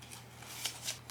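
Tarot cards being shuffled by hand, two or three quick riffling bursts of crisp papery flutter, close and fairly quiet, with no voices.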